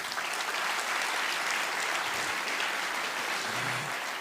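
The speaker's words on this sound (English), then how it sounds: "A big applause for him." An audience at the opening of a makeathon applauds a professor with a continuous, evenly sustained wash of clapping, moderately distant and without pauses.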